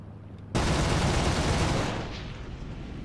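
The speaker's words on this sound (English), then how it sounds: "how close I have to get to this car to be able to shoot it" Aircraft guns firing at a car in the War Thunder flight game: one loud, sustained burst of rapid gunfire kicks in abruptly and rattles on for about two and a half seconds, easing slightly toward the end.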